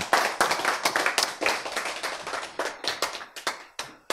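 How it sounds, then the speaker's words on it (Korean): An audience at a lecture claps in a series of sharp, uneven bursts, with individual hand claps standing out close and distinct and brief gaps between them. "박수 좋은데,"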